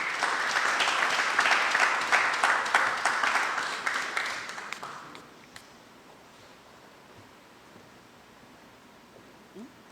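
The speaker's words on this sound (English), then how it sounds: "A round of applause, please." Audience applause at a Ministry of Public Utilities ceremony handing out letters of approval. Full, even clapping fills the first half, then thins and dies away into quiet room tone.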